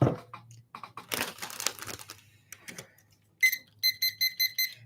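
After some crinkling and handling noise, a timer alarm goes off in a rapid series of loud electronic beeps in evenly spaced bursts.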